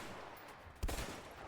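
A single sharp gunshot cracks out midway through, loud and abrupt, against a low background rumble.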